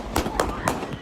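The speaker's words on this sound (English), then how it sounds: "a 17-year-old pulled out a gun and started firing" Three sharp gunshot pops from a shooting after a Juneteenth celebration ring out in quick succession, fairly distant and muffled, as on news footage.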